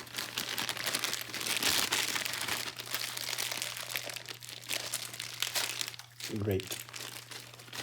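Plastic packaging around a Dell computer mouse being unwrapped, with close crinkling and crumpling that runs steadily and is joined by a brief spoken word near the end.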